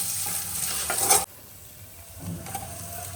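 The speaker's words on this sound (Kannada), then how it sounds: "ಇವಾಗ ಈರುಳ್ಳಿ ಹಾಕ್ಕೊತಾ ಇದ್ದೀವಿ, ಅದನ್ನು ಚೆನ್ನಾಗಿ ಬಾಡಿಸ್ಕೊಬೇಕು." Onions sautéing in oil in a pan after garlic and curry leaves, with a bright sizzle and stirring scrapes up to a sharp cutoff, then a quieter, steady frying hiss continuing alone.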